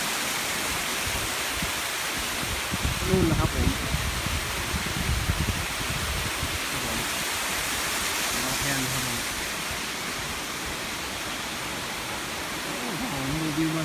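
A waterfall roars steadily as a broad, constant hiss in winter at Sapa, with someone speaking briefly over it now and then.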